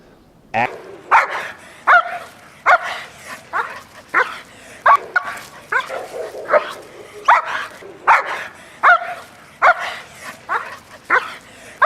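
A German Shepherd dog barks loudly and repeatedly at close range, with a steady run of sharp barks and some whimpering yips between them.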